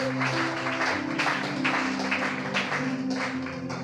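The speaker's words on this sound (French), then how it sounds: "Acclamons la parole de Dieu" A church congregation applauds steadily for several seconds, a dense, continuous clapping filling the space with no break.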